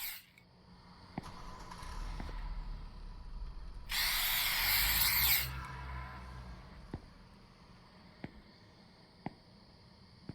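Spray aimed at mice in The Convenience Store video game gives one steady hissing burst of about a second and a half, over a low game hum with sparse faint clicks and knocks around it.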